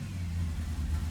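A Porsche Panamera engine idles roughly with a failing high-pressure fuel pump, a steady low rumble running close and continuous throughout.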